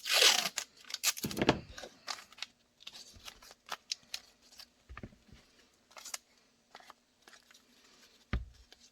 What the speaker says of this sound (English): Get some tape.